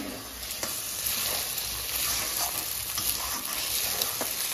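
Food, with egg, fries hard in a pan on full flame before leftover rice is added. A dense, continuous sizzle carries scattered stirring clicks, close and steady.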